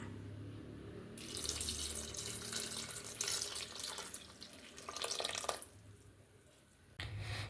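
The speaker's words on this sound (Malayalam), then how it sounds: "നമുക്കത് വേവിച്ച പച്ചക്കറിയിലേക്ക് ഒഴിച്ചു കൊടുക്കാം." Tamarind water for sambar poured into a pot of cooked vegetables, a steady splashing liquid stream lasting several seconds with a brief pause near the end, close and fairly quiet.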